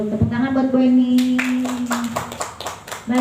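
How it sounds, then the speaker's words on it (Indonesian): A school class claps for a teacher in an Indonesian classroom, a short burst of hand claps following a sustained sung or spoken tone, with voices mixed in. "Tepuk tangan buat Bu Eni."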